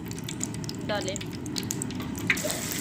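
Chana dal mixture dropped into half a kilo of hot desi ghee, giving a steady, fairly soft frying hiss with small crackles throughout and a faint voice in the background.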